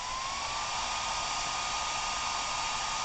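BELTLY turbo fan air duster rated at 110,000 RPM blasting at close range, a loud, steady high-pitched whooshing roar with a rising whine at the start, constant throughout with no talking.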